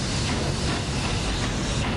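Train in GTA San Andreas, a steady, loud, dense rumble with broadband rattling noise throughout, continuous and close with no talk.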